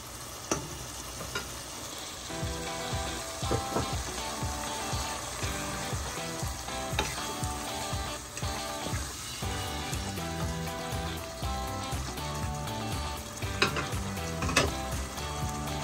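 Shrimp sizzle and crackle steadily in a hot pan in a village kitchen, with repeated scraping and stirring strokes throughout, close and fairly loud, and no voices.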